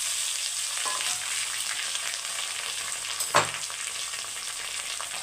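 Small cut potatoes frying in oil with garlic and curry leaves, a continuous close sizzle with a single stirring clack partway through.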